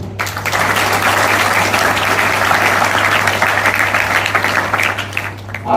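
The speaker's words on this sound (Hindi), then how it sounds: "लीडर्स के लिए ताली दे दीजिए।" An audience claps for its leaders in a hall, sustained, loud and fairly even applause from many hands that begins abruptly and fades slightly toward the end.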